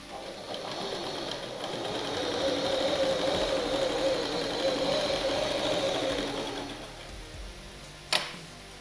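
A sewing machine stitches a skirt and blouse seam in a steady whirring run of about seven seconds, close and fairly loud, then stops, followed by a single sharp click near the end.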